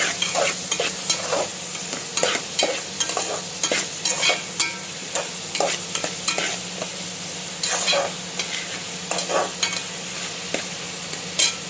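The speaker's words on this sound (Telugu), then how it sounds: "మంచిగా వేగనివ్వండి" Egg curry masala, with turmeric and salt just added, fries in a pan under a steady sizzle while a spoon scrapes and stirs in repeated sharp strokes, close and fairly loud, with no talking.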